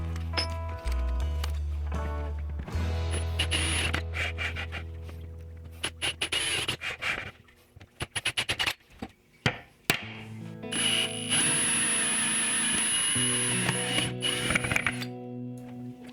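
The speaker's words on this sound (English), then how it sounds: "I'm drilling through the lid with a metal cutting drill bit, and then following with a brad point bit for cleaner holes in the plywood" A drill bores through a plywood lid for a 55-gallon dust collection cyclone, first with a metal-cutting bit and then a brad point bit, giving whirring runs between clunks and pauses.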